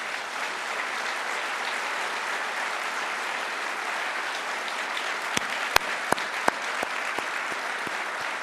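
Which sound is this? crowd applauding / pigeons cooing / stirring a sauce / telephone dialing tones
crowd applauding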